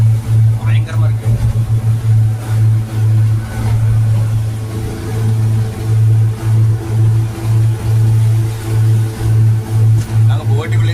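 Riding inside a boat crossing from Payung to Pari island in Indonesia: a loud, steady engine drone that pulses in a regular throbbing rhythm, with rushing noise from the rocking hull and water throughout.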